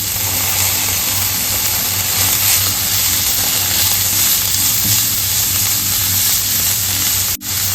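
Steady frying sizzle as curry leaves go into chopped onions in hot oil for a spicy green peas curry, a continuous hiss with low cooking hum beneath.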